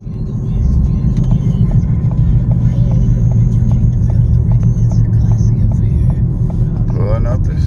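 Low, steady engine rumble and road hum from inside a moving truck, loud and continuous, with faint voices murmuring over it.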